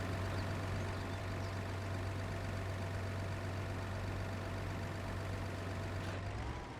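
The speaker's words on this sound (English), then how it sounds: "Now that's a tractor." A tractor engine in the video game Farming Simulator 25 idles steadily with a low, droning hum. It runs alone and unbroken at a moderate level, then tapers slightly near the end.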